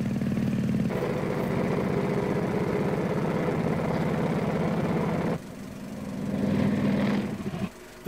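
A motorcycle engine runs steadily at a low, throbbing idle for several seconds, then cuts back before a brief rev rises and falls near the end.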